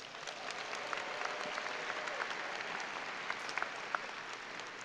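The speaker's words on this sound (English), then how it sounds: "a round of applause." A high school graduation audience applauds the principal at a commencement ceremony, with steady, dense clapping from a large crowd that stays even throughout, a few sharper claps popping out near the end.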